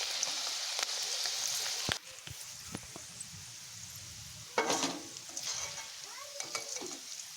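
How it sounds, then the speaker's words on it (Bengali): Soaked, sun-dried chana dal (split chickpeas) frying in oil, a steady sizzle interrupted by sharp scraping and clattering of a spatula against the pan, with brief louder stirring bursts. "ছোলার ডালটাকে একটু লাল লাল করে ভেজেছি"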